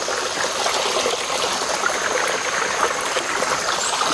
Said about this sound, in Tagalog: So mga tol, may sapa.